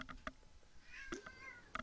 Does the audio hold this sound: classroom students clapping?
no